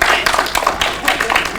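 Brief burst of audience applause at a live stand-up comedy show, scattered claps rising and falling over a second or so.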